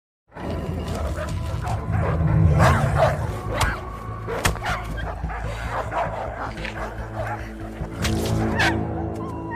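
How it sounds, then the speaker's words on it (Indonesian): Several dogs barking at a hyena, a loud cluster of sharp overlapping barks and yips with some whimpering, close and continuous, with chaotic animal calls mixed in. "ada hyena dan beberapa anjing yang menggonggong padanya"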